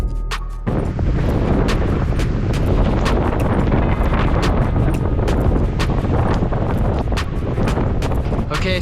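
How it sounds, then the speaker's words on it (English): Strong wind gusts buffet the microphone above the tree line in snowy backcountry, a loud continuous roar with sharp blustery bursts throughout. "Getting a little windy up here above the tree line"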